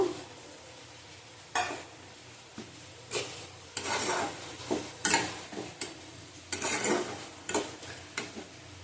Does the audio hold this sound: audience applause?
no